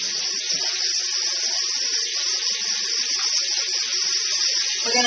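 Italian sausage and chopped onion sizzle in a pan, a steady, bright, crackling hiss that stays even and close throughout, with no talking.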